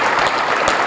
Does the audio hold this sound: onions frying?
no